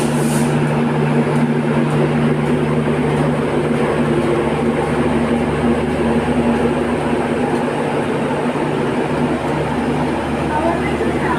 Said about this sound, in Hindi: सामने अहमदाबाद दरभंगा हमसफ़र एक्सप्रेस का डिपैचर हुआ है मुजफ्फरपुर जंक्शन से। मज़े की बात है, अल्को लोकोमोटिव मिला है।